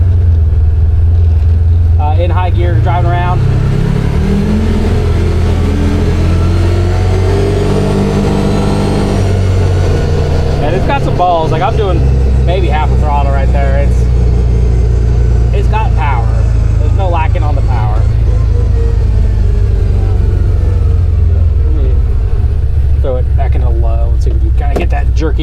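The engine of a CFMoto UForce 1000 UTV rises in pitch as it accelerates while driving through a neighborhood in high gear. The loud, steady engine drone swells and eases, and someone talks over it.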